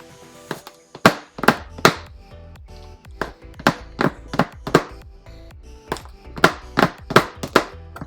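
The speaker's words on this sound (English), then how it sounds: "Keep chopping." A knife chops through chocolate on a board for Reese's scones, a string of about fifteen sharp, close thunks in uneven quick bursts with short pauses between them, no talk.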